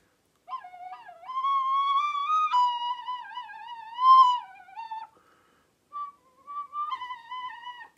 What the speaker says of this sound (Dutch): En nog een fluitje. Dit is een mooie plastic.